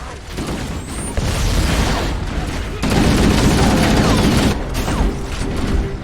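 Sustained Halo gunfire, a dense fusillade of rapid shots and booms that surges louder midway and keeps going close and loud, with shouted voices mixed underneath.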